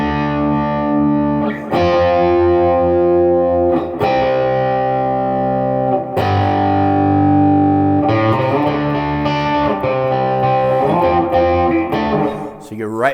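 An electric guitar through distortion plays the chorus of Lynyrd Skynyrd's The Needle and the Spoon, a loud, sustained progression of held chords with a few changes and brief breaks between them.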